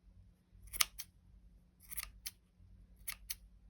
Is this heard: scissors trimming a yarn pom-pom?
yes